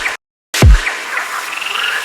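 A frog croaks repeatedly in a layered, reverberant dubstep/EDM mix, its calls close and prominent after a brief silence and a deep bass drop.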